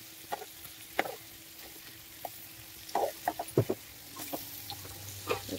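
Food roasts in a hot pan with quiet sizzling and scattered crackles and pops, plus occasional stirring or turning sounds, soft and intermittent with no speech.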